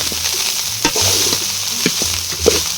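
Egg rice sautés in a hot pan, a continuous loud sizzle broken by several sharp scrapes and knocks of a spatula stirring the rice.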